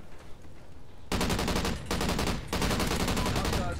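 Rapid automatic gunfire in the Call of Duty Ghosts video game, two sustained bursts separated by a brief gap after a quieter start, loud and dense.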